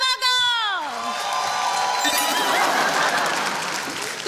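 A studio audience at a comedy show breaks into applause and cheering to welcome host Kapil Sharma, a swelling wash of clapping and whoops rising after a brief spoken introduction and continuing loudly.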